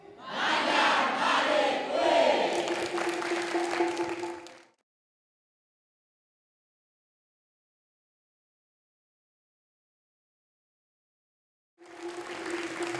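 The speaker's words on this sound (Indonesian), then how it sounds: "boleh beri tepuk tangan untuk ketiga peserta kita kali ini" A studio audience at a quiz show in Denpasar, Bali, claps and cheers loudly for about five seconds, then falls silent, with a second burst of applause and shouting rising again near the end.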